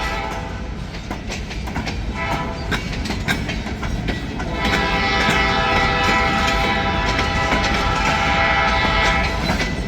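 Loud freight train passing close by, its wheels rumbling and clattering over the rails while a sustained horn blast swells and holds through the second half.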